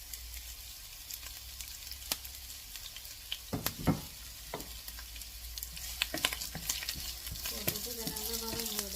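Onion, garlic and curry leaves frying in a pan for a drumstick-leaf dish, a soft steady sizzle with scattered sharper crackles and a few spoon scrapes, quiet and close.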